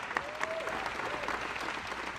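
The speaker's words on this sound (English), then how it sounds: "So let's give another round of applause for our astronauts." An audience at a post-mission press conference for Blue Origin astronauts gives brief, fairly dense applause, moderately loud and close, with a faint whistle in the clapping.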